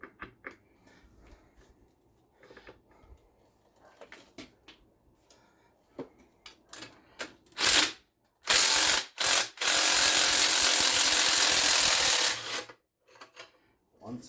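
A front strut bolt on a 2004 Oldsmobile is tightened with scattered ratchet clicks and metallic clanks, then a few loud mechanical bursts and a sustained harsh grinding run that cuts off abruptly.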